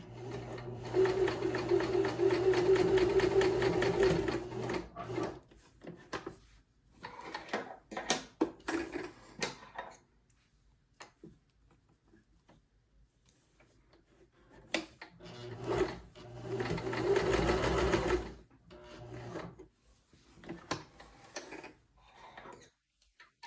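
Sewing machine stitching basting seams on inseam pockets with a quarter-inch allowance, running in two steady bursts of a few seconds each separated by quieter handling noises.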